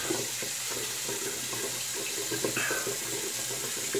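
Tap water runs steadily into a sink as a razor is rinsed between passes of a wet shave with a OneBlade razor, a close, continuous splashing rush with no talk.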